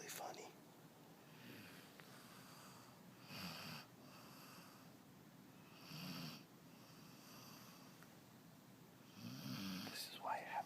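A pet snores softly and close by in slow, regular breaths about three seconds apart, each a low rasping snort over quiet room hiss. The last snores near the end grow a little louder.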